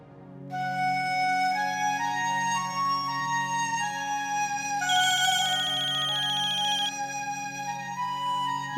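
A phone ringtone plays as a call is placed, a melodic electronic tune of rising and falling notes looping steadily for several seconds after a short silence, clear and close.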